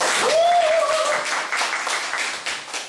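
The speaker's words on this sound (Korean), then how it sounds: "박수가 필요하죠" Audience applause fills a Korean lecture hall during a June 2019 Dosan Academy special lecture, dense and steady for about three seconds, with a brief voice rising over it near the start.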